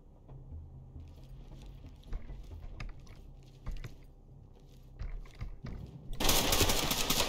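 Gunfire in the tactical shooter Ready or Not: scattered muffled clicks and thuds, then a sudden loud, dense burst of shots near the end.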